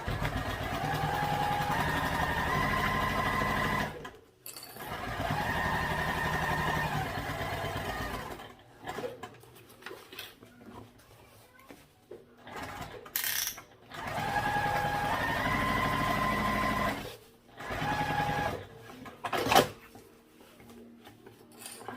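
Domestic sewing machine basting tote bag pieces together, running in several bursts of steady whirring stitching separated by short pauses, close and clear.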